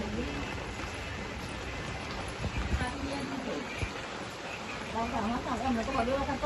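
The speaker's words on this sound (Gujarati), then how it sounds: "વરસાદ ચાલુ થઈ ગયો" Steady rainfall patters down across the whole stretch, a broad hiss with scattered drops, while voices murmur faintly underneath.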